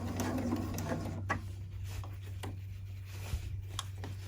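A sewing machine backstitches the seam of a fabric hair scrunchie around a hair tie. It gives a brief, close mechanical whir with light ticking, then goes quieter. No one speaks.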